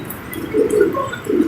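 Soft, low coos of racing pigeons repeating in a loose rhythm, fairly close, with faint background noise.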